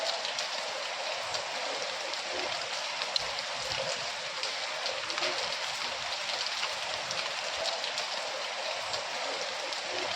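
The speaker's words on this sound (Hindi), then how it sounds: "सूरत के कई इलाकों में मौसम में अचानक हुए बदलाव के बाद बारिश बरस पड़ी" Steady unseasonal rain falling in Surat, Gujarat, a dense even hiss of drops on surfaces with no break, fairly distant and continuous, no voices.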